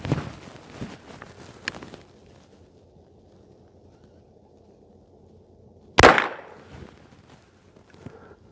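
A single sharp gunshot rings out outdoors as a playing card, one of the kings, is shot, standing out loud and alone amid quiet wind and light rustling and handling sounds.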